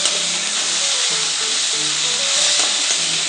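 Tomatoes sautéing in a pan for brinjal rice, a steady loud sizzle with scraping stirs running throughout, close up and with no voices.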